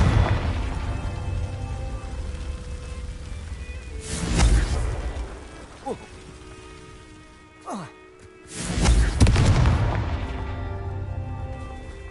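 Fire-blasting spell explosions in the Hogwarts Legacy video game: two heavy bursts several seconds apart, each a loud boom with a rushing tail over low game rumble, plus a brief whooshing zip between them.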